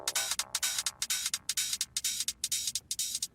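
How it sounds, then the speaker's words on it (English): Techno track under a DJ high-pass filter sweep, its bass stripped away so only thin, pulsing hi-hat bursts remain in a quick steady rhythm, fairly quiet and without voices. "A common one is the high pass filter"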